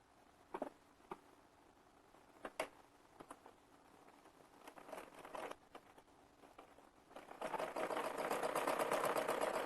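A sewing machine runs a straight seam on a Rajasthani kurti, opening with a few short stitching bursts and then settling into a steady, louder run toward the end.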